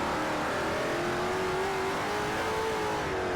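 A Koenigsegg CCX supercar in Forza 4 revs hard, a deep, raw engine note rising steadily in pitch, loud and close and continuous with no voices.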